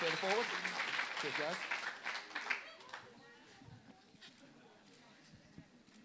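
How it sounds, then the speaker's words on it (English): A burst of audience clapping and cheering at a science slam event that gradually thins out and fades, with a voice talking over the start of it. "Give them a little applause."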